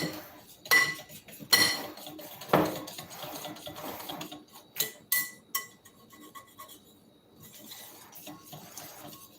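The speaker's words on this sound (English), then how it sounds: "So now this should be well whisked together." Cake flour, salt and baking powder whisked in a bowl, giving scraping, clinking utensil strokes against the bowl in irregular bursts, fairly close and moderately quiet, with no talking.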